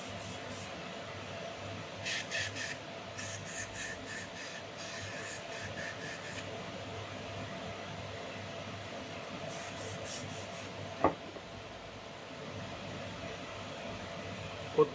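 A hand air blower dusts out a disassembled Iscorama Pre 36 lens: short airy puffs come in quick clusters, with a steady low room hum and a couple of small clicks between them.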